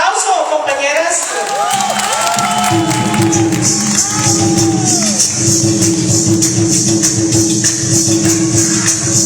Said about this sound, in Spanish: Aplauso, compañeras.